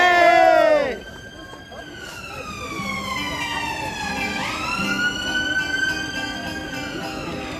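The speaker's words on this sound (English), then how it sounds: "That's the ambulance coming for the UK." An ambulance siren wails past an outdoor political rally on the Mound in Edinburgh, its rising and falling tone sweeping clearly over a murmuring crowd after a loud cheer cuts off at the start.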